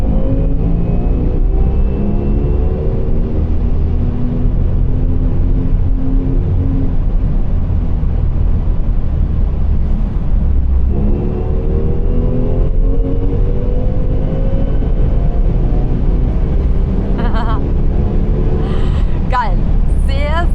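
An electric Porsche Macan GTS drives along with a steady rolling road hum and faint rising whine, broken partway through by a voice talking over it.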